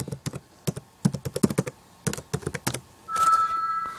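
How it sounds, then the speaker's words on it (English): Keys clack on a computer keyboard as a password is entered, with short bursts of close, crisp keystrokes followed by a steady electronic tone. "now I need to put in my password"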